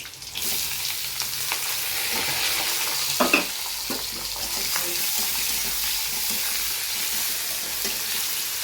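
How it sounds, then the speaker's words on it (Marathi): Dal fries in a pan with a steady, close sizzle and soft stirring scrapes, a single louder clatter partway through and no talking. "डाळ बघा मस्त अशी फ्राय झाली"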